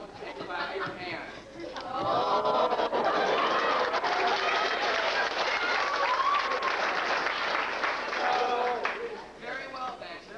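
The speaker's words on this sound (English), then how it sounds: "Say yes or no and clap your hands." An audience at a high school stage production of The Wizard of Oz claps and cheers, a dense, loud burst of applause mixed with crowd voices and children's shouts that swells and then tapers.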